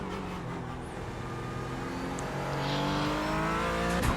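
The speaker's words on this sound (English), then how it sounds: "God, it's fun accelerating out of a corner with this thing when you're online and you have it hooked up." Porsche 718 Cayman GT4 in the iRacing simulator accelerating out of a corner, a continuous engine note rising steadily in pitch and loudness through the gears, close and alone.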